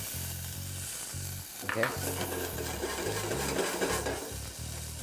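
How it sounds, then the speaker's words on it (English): Shallots sautéing in hot canola oil in a pan, a close, steady sizzle that swells and crackles as they are stirred, with a brief spoken word over it. "We're just gonna saute a little bit of shallots."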